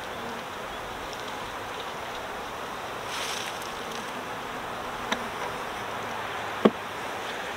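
A steady, dense buzz of many honeybees inside a hive with a failing queen hums continuously, close and even, with a couple of faint clicks near the end.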